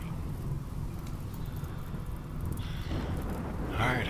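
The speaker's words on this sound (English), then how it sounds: "hopefully that rain will take care of that stuff" Rain in the video game RimWorld plays as a steady wash of noise with low rumbling beneath, continuous and fairly loud, with a few brighter bursts toward the end.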